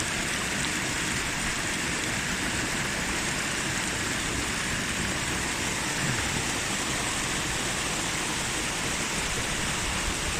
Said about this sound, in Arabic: نعم هذا هو نهر بعقلين بلبنان.